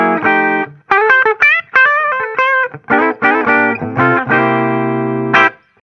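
Clean electric guitar tone from a Les Paul Tribute played through a miked Fender Deluxe Reverb amp, heard alone as a run of bright picked notes and short chords, some ringing out and others cut off, loud and close.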